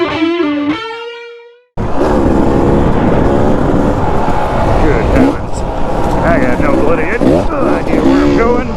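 An enduro motorcycle engine roars loud and close throughout, with revving and gear changes, after a brief voice at the start.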